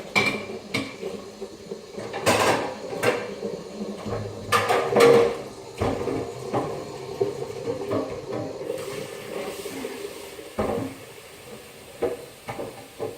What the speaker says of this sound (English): get in and clean that pan